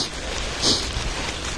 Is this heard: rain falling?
yes